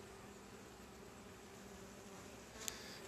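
Honeybees buzzing on a hive frame during a beekeeper's inspection, a steady close droning hum that continues throughout, with a brief sharp tick near the end.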